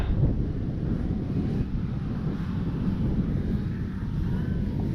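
Constant low rumbling wind buffeting the microphone at an outdoor flight of an E-flite Carbon-Z T-28 RC plane, loud and steady throughout, with a faint engine-like drone underneath.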